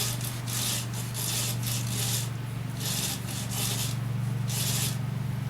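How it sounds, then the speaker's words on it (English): Wax coat rubbed onto a spinning turned-wood piece on the lathe, a steady motor hum beneath repeated bursts of dry scrubbing friction in an uneven rhythm. "Now it should be good to clean it up and apply a coat of that wax."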